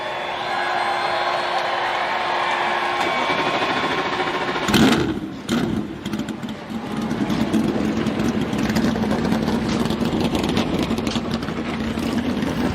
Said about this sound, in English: Drivers, start your engine